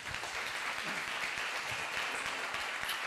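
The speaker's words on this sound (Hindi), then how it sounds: "एक परमेश्वर को ताली बजाकर धन्यवाद" Audience applause at a Hindi-language Christian gathering, offered as thanks to God: dense, steady clapping from a crowd that carries evenly through the moment with no voices over it.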